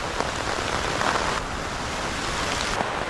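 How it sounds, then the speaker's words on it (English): Heavy rain pounds a makeshift tarpaulin shelter in a rainforest, a dense, steady rattling roar of large drops that stays loud and close throughout, with brief surges in intensity. "large, heavy raindrops pounding against the makeshift tarpaulin shelter with a loud rattling sound"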